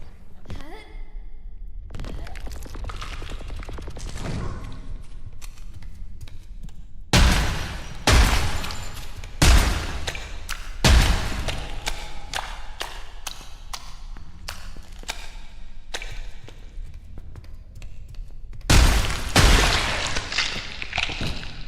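Gunshots in the horror shooter Psycho Dead: sharp broadband cracks, a few spaced shots with a closer cluster near the end, over a steady game ambience.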